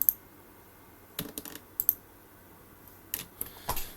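Computer keyboard keys pressed in short scattered bursts, a few quick clicks at a time with pauses between, close and quiet against faint background hiss.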